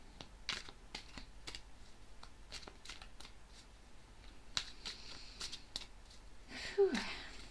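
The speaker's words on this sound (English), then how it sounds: "I'll shuffle a little bit more" Tarot cards being shuffled by hand, a series of quiet riffling, flicking bursts in an irregular rhythm, close and soft, with a slightly louder shuffle near the end.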